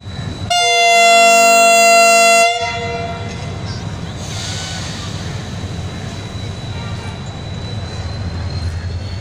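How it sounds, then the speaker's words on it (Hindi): The 152 Down Shah Latif Express passenger train leaving Mirpurkhas for Karachi gives a loud, sustained multi-tone horn blast lasting a couple of seconds, followed by steady rumbling of the train rolling off nearby. "152 डाउन शाह लतीफ एक्सप्रेस अपनी मंजिल कराची की तरफ रवाना हो रही है।"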